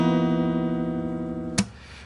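Electric or acoustic guitar strumming a chord from a song tutorial, with a single chord ringing out steadily and fading before a sharp muted string click near the end.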